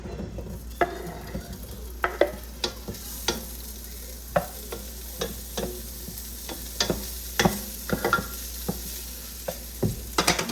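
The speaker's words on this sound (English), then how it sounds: "To your pan, just add some olive oil. Okay, I'm going to start by adding my sausage." Sausage fries in olive oil in a pan, a steady low sizzle broken by frequent sharp pops and spatters at an irregular pace, heard up close with no talking.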